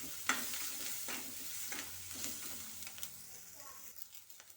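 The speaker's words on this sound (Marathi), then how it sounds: "आता टाकून घेते मी मिरची." Chilies hissing in oil in a pan as methi paneer is cooked, a continuous close sizzle broken by periodic stirring scrapes, fading slightly toward the end, no speech.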